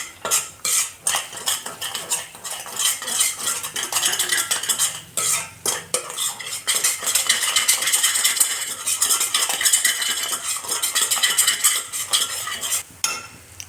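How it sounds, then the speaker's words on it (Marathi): A spoon scrapes and clinks continuously against a pan, stirring walnut halwa with sugar as it cooks down; brisk, close, steady rhythm with a light sizzle underneath. "चम्मच देत राहायचं, जेणेकरून आपलं छान असा पाक म्हणजे साखर विरघळली पाहिजे"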